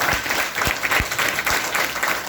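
An audience at a Safe Shop training event claps loudly in sustained, dense applause, a close, steady patter of many hands with no voices over it.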